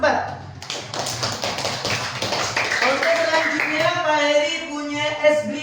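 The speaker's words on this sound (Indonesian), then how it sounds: "Tepuk tangan dulu untuk anak-anakku kelas 4" A class of fourth-grade children claps hands in a classroom, making a quick patter of taps that settles into a rhythmic clapping pattern, with voices speaking over the claps.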